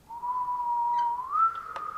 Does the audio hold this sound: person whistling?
yes